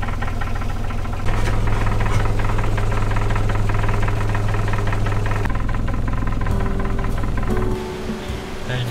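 A boat's diesel engine idles steadily at a fuel pontoon before a Channel Islands crossing, giving a loud, rhythmic knocking rumble with some mechanical clatter and a shift in tone near the end.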